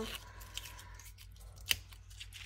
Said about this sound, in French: j'ai dû découper les petits lapins